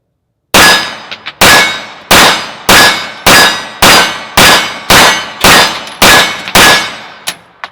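A CZ75 SP-01 Tactical pistol fires about eleven sharp, loud shots at a steady pace of roughly one every 0.6 seconds, each ringing out briefly before the next, followed by a few fainter clicks, with no talking.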